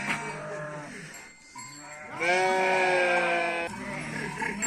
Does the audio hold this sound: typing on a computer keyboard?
no